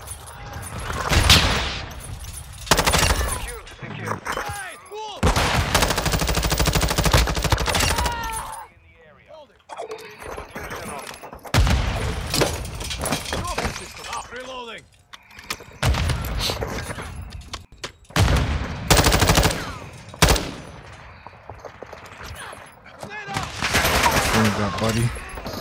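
Gunfire in the video game Call of Duty Modern Warfare II, with repeated bursts of rapid shots and impacts, loud and near, while a player talks over the fighting.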